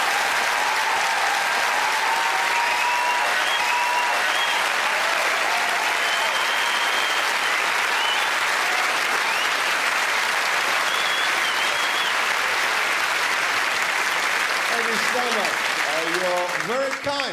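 Sustained, loud applause from a theatre audience at a live stand-up comedy show in Leeds, steady clapping filling the room with crowd noise, then tapering near the end as a voice begins.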